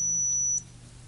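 An electronic buzzer in a simple homemade circuit with a light gives a steady, piercing high-pitched tone that cuts off abruptly after about half a second, heard close by with no talk.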